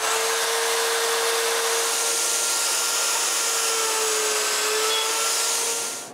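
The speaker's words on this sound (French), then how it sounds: "j'utilise ma mortaiseuse pour percer un trou au bout de 4 des 8 morceaux" A woodworking mortiser bores a hole into the end of a walnut or oak piece, a loud continuous motor whir with a steady tonal hum and grinding hiss that runs unbroken before cutting off at the end.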